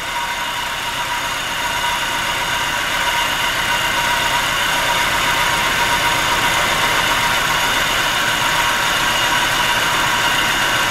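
A 1997 Nissan Altima engine idles roughly with a misfire, a steady close drone that holds even throughout with no talk over it.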